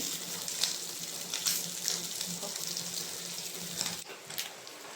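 Sardine heads frying in ghee in a pan after being flipped, giving a soft, steady sizzle with light crackles and a few faint clinks, fairly quiet and close, without talk.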